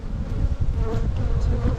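A captured honeybee swarm hums steadily inside a beehive, a dense, close, continuous buzz of many bees with no talking over it.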